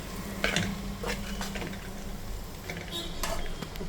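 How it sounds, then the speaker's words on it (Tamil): Noodles with salt are stirred in a pan, giving close, irregular scraping and clacking strokes over a low frying hiss while a voice talks faintly underneath. "உப்பு போட்டு நூடுல்ஸ் போட்டு நம்ம நல்லா கிளறி விடணும்"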